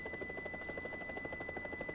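A helicopter hovers in War Thunder, its rotor giving a steady, rapid thumping pulse over a constant engine whine. It stays fairly quiet and even throughout, with no talking.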